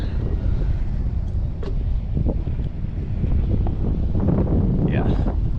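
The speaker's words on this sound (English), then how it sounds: "this wind looks like it's doing its job" Wind gusts steadily across an anchored boat on open water, buffeting the microphone in a constant low roar, with a few faint knocks and a brief voice in the background.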